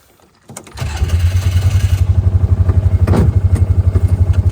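A four-wheel drive vehicle's engine starts and settles into a loud, close, rhythmically pulsing run as it pulls away across icy homestead ground, with a brief clatter partway through and no talking.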